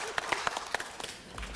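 A small audience applauding after a presentation: brief, sparse, fairly faint clapping with scattered individual hand claps, fading out quickly.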